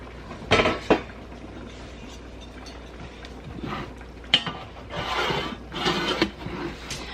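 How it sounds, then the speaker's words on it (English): A lid placed on a container of sandwich bread dough, with a sharp clatter followed by a few quieter knocks and rustling handling noises close by in a quiet kitchen. "I'll put my lid on this"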